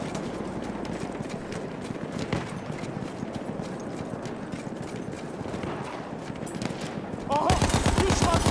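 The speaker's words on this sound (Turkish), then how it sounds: "Makinalı tüfek." Machine-gun fire rattles in the Battlefield 1 video game, rapid bursts of shots under a busy battlefield din, growing louder and denser near the end as sustained automatic fire takes over.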